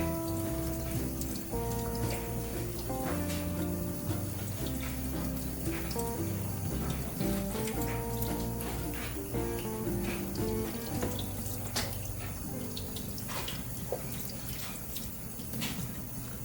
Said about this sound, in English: I'm going to rub it underneath the water.